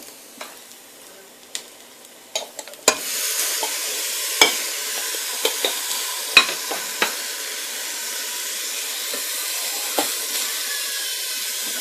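Chicken kurma with tomatoes being stirred in a frying pan: a few spoon knocks over quiet, then a hiss as the food hits the pan, settling into a steady sizzle with periodic clanks of stirring.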